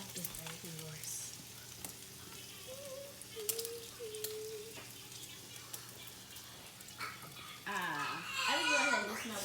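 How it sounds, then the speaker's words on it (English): Food sizzles in a pan on a home stove during a kids' breakfast cooking challenge, a steady frying crackle under children's voices and chatter, growing louder near the end. "I'm gonna let it sizzle for another whatever."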